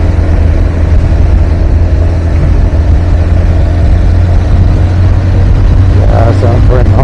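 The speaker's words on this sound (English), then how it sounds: "So the engine sounds really healthy." A Yamaha XJ600 motorcycle engine runs steadily at idle, a loud, continuous low-pitched drone heard up close, with a brief burst of voice near the end.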